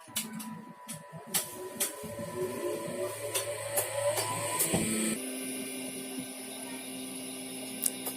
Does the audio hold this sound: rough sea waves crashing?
no